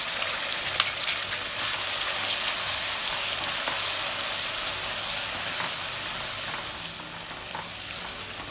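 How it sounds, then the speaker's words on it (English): Beef korma with korma paste stir-fries in a pan, a loud, continuous close sizzle with occasional scraping stirs and no talking. "Stir fry further for 5 minutes."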